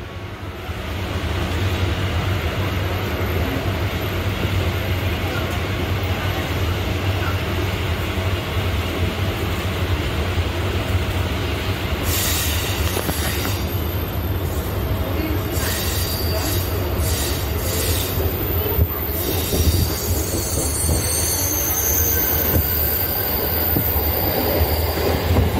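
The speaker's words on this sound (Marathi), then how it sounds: "एक लोकल ट्रेनची जाते चर्चगेटला" A Mumbai local train passing toward Churchgate, a long continuous rumble of carriages with sharp metallic wheel squeals and screeches breaking in over the second half, loud and close.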